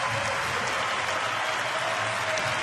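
A cricket crowd at a Perth Scorchers Big Bash League match claps steadily as batsman Michael Klinger walks off, a dense wash of distant applause filling the ground throughout.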